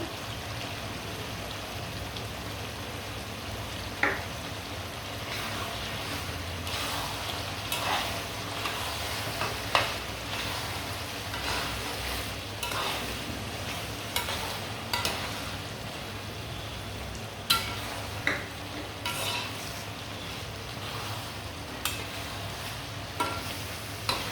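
Olive pickle with panch phoron being stirred as it fries in oil, a steady low sizzle broken by scattered spoon scrapes and clinks, close by and alone without voices.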